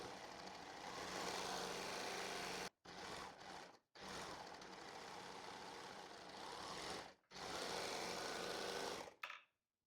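An overlocker sews the side seams of terry towelling fabric, running in a loud, steady whir for several seconds at a time, broken by a few short stops and halting near the end.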